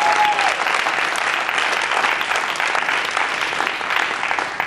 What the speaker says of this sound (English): so that itself deserves a round of applause